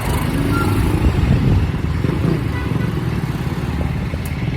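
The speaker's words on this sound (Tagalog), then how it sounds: "Traffic oh." Busy street traffic heard while out walking: motorcycles and cars pass close by in a loud, continuous low rumble of engines that swells and fades slightly as vehicles go past.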